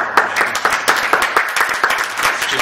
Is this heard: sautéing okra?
no